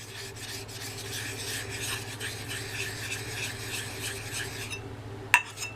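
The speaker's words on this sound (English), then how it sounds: "This is a 400 grit diamond plate." A blade is honed on a 400 grit diamond plate: a steady, close, continuous rasp of steel on abrasive runs for several seconds, then stops and is followed by one sharp click near the end.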